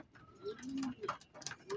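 Pigeons cooing nearby, several soft throaty coos in quick succession over a quiet background.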